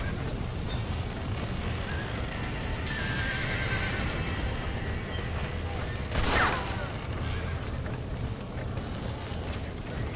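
A horse whinnies once over steady Red Dead Redemption game noise and hoofbeats, fairly loud amid a busy, continuous background.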